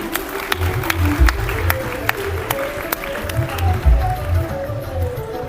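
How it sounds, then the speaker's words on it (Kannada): An audience claps loudly at a ceremony where a guru is honoured and gives blessings. The applause is steady and close, with low thumps and a faint tonal sound beneath it. "ಜೋರಾದ ಚಪ್ಪಾಳೆ ಬರಲಿ"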